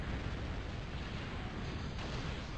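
Dense, continuous rumble of mobile railgun cannon fire and explosions from a Total Annihilation Escalation battle, loud and unbroken with no pauses.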